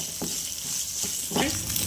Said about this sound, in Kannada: ಇದು ಒಗ್ಗರಣೆ ಆಗಿದೆ.